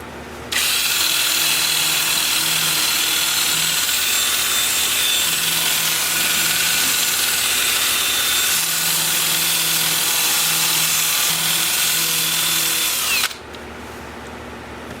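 A power sanding disc grinds steadily against a red cedar bowl spinning in reverse at about 400 RPM on a lathe, a loud continuous whirring hiss that runs unbroken, then cuts off near the end.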